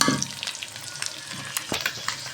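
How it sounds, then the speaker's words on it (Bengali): Eggs fry in a hot pan with a steady, close sizzle, broken by a few light scraping clicks from stirring or turning. "ডিমগুলো প্রায় ভাজা হয়ে গিয়েছে"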